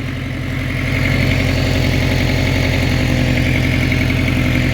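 A Subaru GC8 engine idles steadily up close, its even low rumble carrying the rapid puffing of an exhaust leak at the up pipe, with no one speaking.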